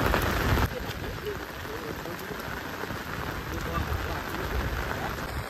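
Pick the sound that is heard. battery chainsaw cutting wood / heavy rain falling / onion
heavy rain falling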